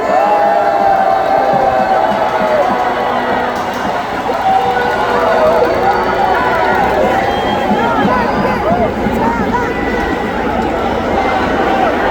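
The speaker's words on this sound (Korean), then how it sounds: "전하계 선생님 모실 때 뜨거운 함성 부탁드립니다" A large crowd at an outdoor political rally in Gwangju cheers and shouts loudly and continuously, with whoops and overlapping voices rising and falling in a sustained roar.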